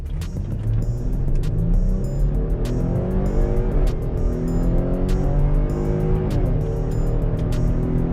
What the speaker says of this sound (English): Put it in sport mode and test this 0 to 60.